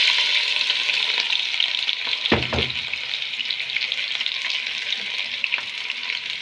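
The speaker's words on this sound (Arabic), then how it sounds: "هنحمر فيها البصل والشعريه" Onions frying in oil in a pot, a steady close hiss and sizzle throughout with a brief clatter of stirring partway through.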